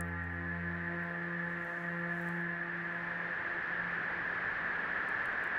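A Behringer Crave synthesizer drones with stacked steady tones over a hissing noise-generator layer, the low harmonics fading out midway while the bright noise carries on.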